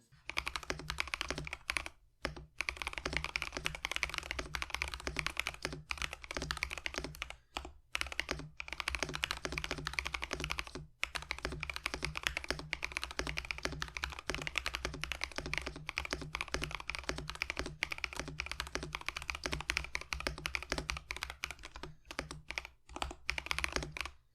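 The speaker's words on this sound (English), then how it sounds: "Here's a sound test so you guys can hear how the Cardinal switches sound." Steady typing on a mechanical keyboard with MechWild Cardinal switches, with rapid clacky keystrokes close up and a few brief pauses, continuing for over twenty seconds.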